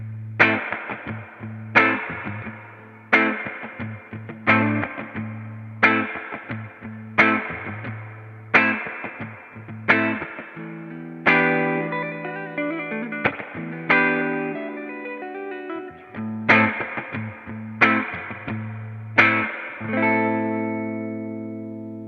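Electric guitar played through a Dr. Z analog spring reverb tank with the master turned up, loud strummed chords and picked phrases ringing with heavy, splashy spring reverb tails and a clear amp tone, no talking.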